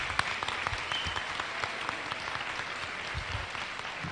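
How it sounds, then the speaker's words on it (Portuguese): An audience claps at a choir festival, applauding the choir's musicians and percussionist; sustained, fairly even applause with a few sharper individual claps and low thumps underneath, no one speaking over it. "Por favor, uma salva de palmas."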